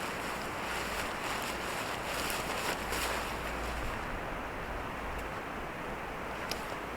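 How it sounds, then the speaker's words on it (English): Strong wind gusting steadily across a mountain campsite in New Zealand during a winter storm, a loud, continuous roar with low rumbling buffets against the microphone and no talking. "Where is that wind coming from?"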